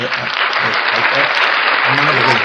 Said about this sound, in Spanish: vamos a dar un aplauso